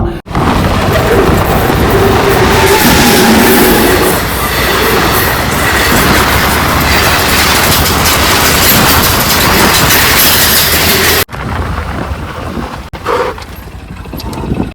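A train roars past at speed, loud and close, a continuous rumble with rattling wheels for over ten seconds before the noise suddenly drops away.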